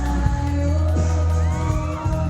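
Loud, dense crowd of fans screaming and cheering through a live all-out concert performance, with music and shouts blending into a continuous roar.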